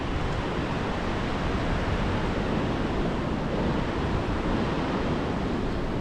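Ocean surf washes steadily onto Legian Beach in Bali in the early morning, a constant broadband roar with wind noise and no distinct breaks.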